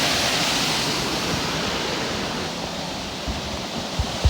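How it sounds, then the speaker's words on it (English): Rushing water of Long Creek Falls on a trail hike, a steady broadband roar heard close up, with a few small knocks near the end. "I'm at Long Creek Falls."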